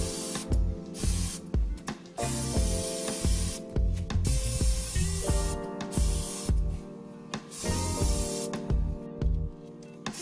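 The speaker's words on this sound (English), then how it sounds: "Now we are spraying the base using a light brown color." Spray cans lay light brown base paint onto a gravel and sand diorama in repeated close hissing bursts of one to two seconds, separated by short pauses and the rattle of the can.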